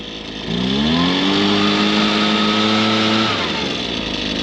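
A Kawasaki Ninja engine catches on the second pull after choke and runs with a loud, steady, buzzing drone for about three seconds before its tone drops away.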